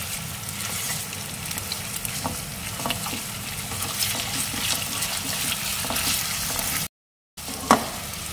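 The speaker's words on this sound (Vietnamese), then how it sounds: "Mình xào cho nó tơi ra nha." Meat stir-fries in a pan with golden green onions, a soft continuous sizzle and scraping stir close by, broken by a brief silent gap near the end.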